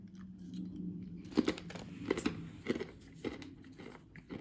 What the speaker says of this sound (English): the gum doesn't look too bad either. I might even give it a whirl.